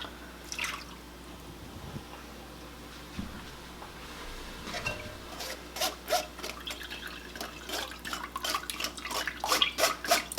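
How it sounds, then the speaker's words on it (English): Mulberry juice trickles and drips through a sieve, beginning with sparse, scattered drops and building to a quick run of close, splashy patters and little streams. "Now I'm going to pour the juice through the sieve to get the rest of the seeds out."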